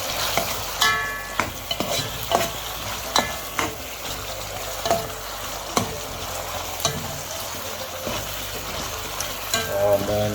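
Onions frying in a pot on a home stove in Samoa, a loud continuous sizzle broken by repeated scraping knocks of a spoon stirring, close and without talk.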